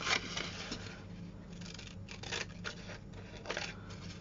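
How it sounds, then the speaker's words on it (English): Scissors snip out a paper stamp tag in short, quick bursts of crisp cutting and rustling paper, close and moderately quiet with no talking. "I'm just going to cut out the tag bit."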